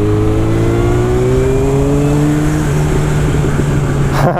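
Yamaha R1 motorcycle engine revving hard, a loud, steady high-pitched wail that climbs in pitch and holds close, with no talking over it.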